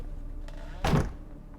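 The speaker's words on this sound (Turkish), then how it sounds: "kapı bile korkunç gıcırdıyor" A door in The Witcher 3 gives a brief muffled creak and thunk as it swings, standing out alone over quiet game ambience.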